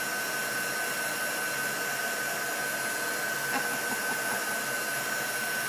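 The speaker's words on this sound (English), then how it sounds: "I'm drying in between so that the chalk paste doesn't stick." A heat dryer runs with a constant, even whirring hum while drying chalk paste on a craft screen, steady and unbroken throughout with no talk.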